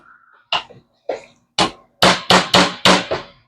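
A mallet taps a pin punch on an airsoft gas blowback rifle receiver, seven sharp metallic knocks, first spaced apart and then quicker and louder, close up with a faint murmur before them.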